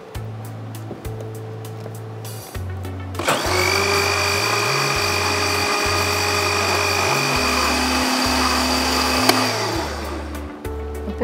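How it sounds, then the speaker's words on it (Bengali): Kitchen blender running steadily for several seconds, churning coconut with sugar and yogurt for a coconut lassi; a loud continuous whir starts abruptly after a few seconds of quieter background music and holds until the end. "নারিকেলটাকে আগে চিনির সঙ্গে ব্লেন্ড করলে হয় কি দইয়ের সঙ্গে খুব স্মুথলি এটা মিশে যায়"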